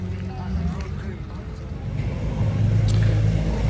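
The engine of a Triumph Mk1 PI car revs with a low, steady rumble that builds and grows louder toward the end, heard under someone talking.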